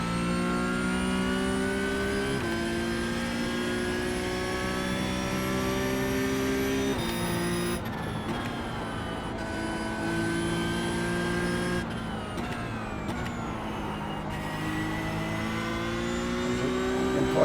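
A Porsche Cup race car's engine in a sim racing game lapping the Nordschleife rises steadily through the gears with brief lifts and downshifts, a loud continuous wail with no talk.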